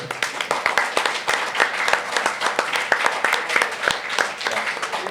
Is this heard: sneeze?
no